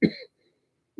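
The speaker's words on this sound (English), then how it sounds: "Accentuated with a cough." A single close, loud cough bursts out at the start, followed by silence and a brief, quieter throat sound at the very end.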